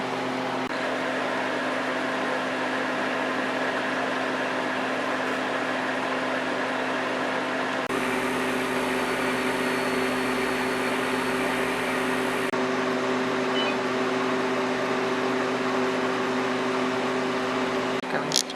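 A home freeze dryer runs its freezing cycle, a steady mechanical hum with strong tonal drone and constant broadband hiss, level and unbroken throughout, with a slight shift in tone partway through.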